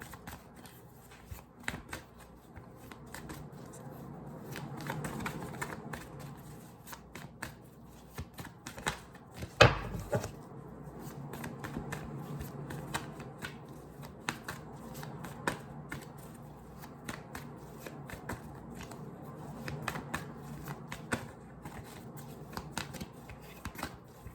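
A deck of tarot cards is shuffled close up, with soft repeated riffles and flicks, quiet and intermittent, and one sharper slap partway through.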